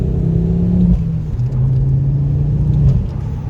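A Ford Focus ST with a new decat exhaust idles and revs gently, giving a loud, deep, grumbly rumble with slight pitch shifts, recorded close with no talk.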